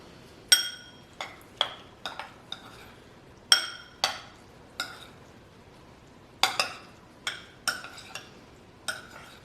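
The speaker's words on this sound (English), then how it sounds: "And I'm going to stir this up." A spoon stirs a soy sauce and lime marinade for spicy tuna tartare, giving about a dozen bright, close clinks against the bowl at uneven intervals, with quiet gaps between them.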